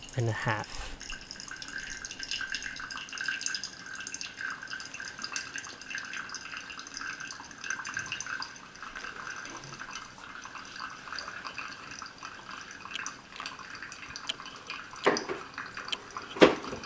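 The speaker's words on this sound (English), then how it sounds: "we're going to add 195 grams of water, pouring in a constant, even circular motion." Hot water is poured in a steady circular stream over ground coffee in a V60 pourover dripper, making a continuous soft trickle and splash with scattered drips over about seventeen seconds, with a voice speaking over it.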